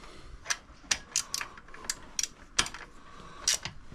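A ratchet socket wrench tightening a spark plug on a 2005 Honda Silver Wing scooter, uneven close bursts of clicking ratchet strokes with short pauses between, no talking.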